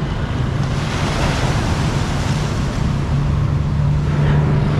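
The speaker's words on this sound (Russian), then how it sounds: "А вон там волна набивается." Ocean waves surge and break on a beach in Phuket, a steady loud wash of surf mixed with gusting wind across the microphone, continuous with no talking.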